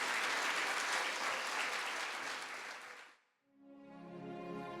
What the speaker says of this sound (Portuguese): Então nós vamos aplaudir a Jesus